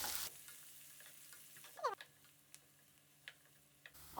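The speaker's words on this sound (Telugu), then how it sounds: "అవి కాస్త వేగాక మనం సన్నగా కట్ చేసి పెట్టుకున్న ఆనియన్ వేసి కూడా వేపాలి" Thinly sliced onion frying in oil with fennel seeds, cumin and cardamom gives a soft, steady sizzle with a few sharp crackles and pops, fairly quiet, with no talking.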